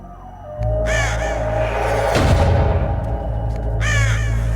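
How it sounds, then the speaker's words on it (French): Crows caw in the Metal Gear Solid video game: a harsh bird call near 1 s, another near 4 s, with a steady low game hum and a loud swelling burst in the middle. "Il est en train de faire quoi le corbeau là?"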